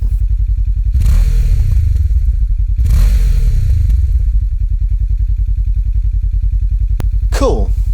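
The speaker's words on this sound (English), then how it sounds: "the grunt of the motorbike, which is picked up by the mics hanging off the handlebars facing downwards into the engine" Motorbike engine running through a tuned exhaust, close-miked from the handlebars aimed down at the engine; a steady deep idle rumble with two short revs, ending in a sharp scrape.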